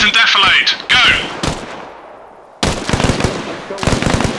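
Rapid rifle and machine-gun fire crackles in the military video game ARMA Reforger, loud sharp bursts opening the stretch, a lull, then more close volleys, with shouted commands over the shooting.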